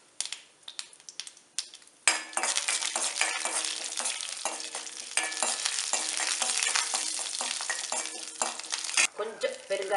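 Mustard seeds and split lentils (urad and chana dal) fry in about two spoons of hot oil in a pan for a Chettinad kara paniyaram tempering, a loud steady crackling sizzle with spoon stirring that starts after a couple of seconds of light taps.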